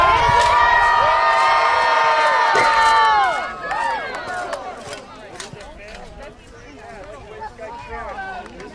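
A big crowd at a knights' tournament cheers and whoops for favorite knights, a loud chorus of high, overlapping shouts that fades after a few seconds into scattered cries and murmuring.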